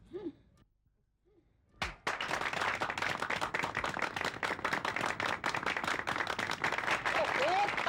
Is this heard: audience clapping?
yes